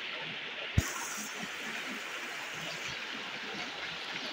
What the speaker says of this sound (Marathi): पाणी बघा एकदम प्रेशरने वाहतो.